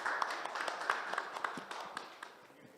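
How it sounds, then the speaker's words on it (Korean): Faint, continuous applause fills a lecture hall at a forum on preserving the heritage of mega sporting events, with scattered sharper claps over a soft wash of clapping. "큰 박수 부탁드리겠습니다"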